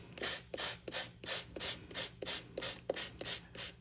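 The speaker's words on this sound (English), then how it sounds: "It's just, a sanding block for crafts, so it's very fine." A fine craft sanding block rubs back and forth over paper die cuts, producing about a dozen quick, rhythmic rasping strokes, close and fairly soft, with no voices.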